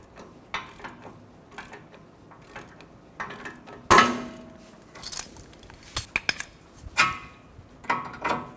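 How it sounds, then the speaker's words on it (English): A large hammer strikes the steering knuckle of a 2014-2019 Toyota Highlander. Sharp metallic clanks come up close at irregular intervals, with lighter tool clinks and rattles between the blows. "Using a large hammer, you can hit on the side of the knuckle where the ball joint sits to release it"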